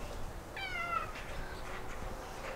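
Single short meow from a kitten among many house cats, a clear rising-falling cry over steady background noise.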